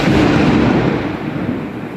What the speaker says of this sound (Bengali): মা অনেক বড় একটা বাজ পড়লো মা